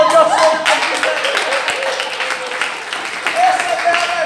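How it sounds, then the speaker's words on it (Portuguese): Clapping from an audience at a church leadership seminar, loud and fairly close with some individual claps standing out, and voices mixed in throughout. "Vamos aplaudir o som."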